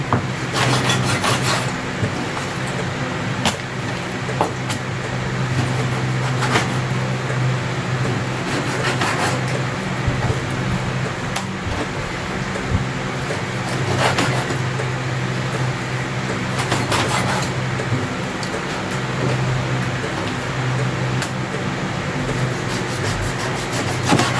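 Potatoes being sliced for beef adobo, giving a steady rasping, rubbing scrape with repeated knife strokes against a cutting board, continuous and fairly close with no talking.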